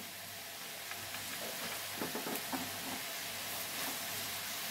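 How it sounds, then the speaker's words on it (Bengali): Small-cut chicken pieces stirred in a little hot oil in a pan for chilli chicken, giving a soft continuous sizzle with faint scraping stirs, quiet and steady throughout. "এবার এর মধ্যে আমি এই চিকেনগুলোকে দিয়ে একসঙ্গে একটু নাড়াচাড়া করে নেব।"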